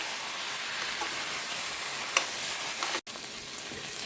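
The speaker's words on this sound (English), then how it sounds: "we're going to add in our 2 pounds of sauerkraut. And we're going to stir this really well." Two pounds of sauerkraut are stirred into a freshly made roux in a pan, producing a continuous close sizzle and frying hiss with faint scraping, broken by one brief cut-out near the end.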